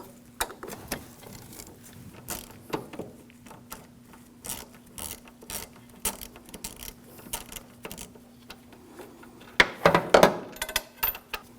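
A socket wrench removes an E14 bolt on a 2007-2013 BMW 328i with a 3.0L inline-six, producing scattered metallic clicks and clinks, then a denser burst of ratcheting near the end, over a low steady hum.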